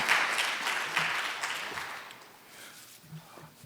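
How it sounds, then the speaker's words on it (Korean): A conference audience in Seoul applauds to welcome a speaker; the clapping is loud at first and gradually thins and fades over several seconds, with a few scattered claps near the end. "Please welcome him with a big round of applause."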